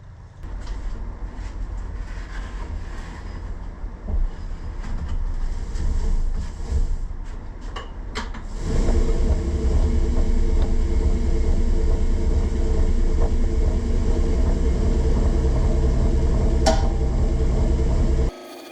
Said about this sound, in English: Let's get this tossed on the surface conditioning belt and see how it turns out.